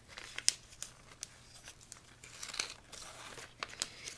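Paper crinkles and creases in short, close bursts as an origami module is folded, the outer edge turned inward, with scattered crisp crackles and no talking.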